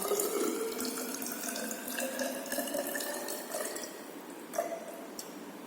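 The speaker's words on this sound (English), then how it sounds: "Now we have to add 80 ml water," Distilled water is poured into a chloroacetic acid solution in a chemistry lab, making a steady, quiet trickle and splash that continues for several seconds with no talking.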